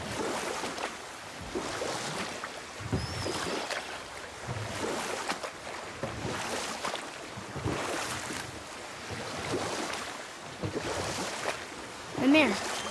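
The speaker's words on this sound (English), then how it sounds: "Keep rowing towards the statues of the oarsmen" Oars dip and pull through water as a small boat is rowed in God of War, a steady cycle of splashes every couple of seconds over wind and lapping waves.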